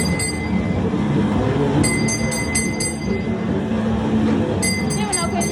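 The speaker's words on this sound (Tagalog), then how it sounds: "Kaumot ang train ko." A train pulls in at Dahilayan alpine village, a steady rumble of rail cars with metallic clinks and squeaky ticks in bursts, while voices chatter nearby.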